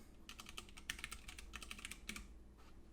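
Fast typing on a computer keyboard, a quick run of faint, close clicks in bursts with short pauses, heard alone.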